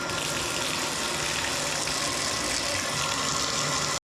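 Water gushes steadily from a newly installed slip-on diverter spout into an emptied bathtub, a loud, continuous broadband rush lasting about four seconds, then cutting off abruptly.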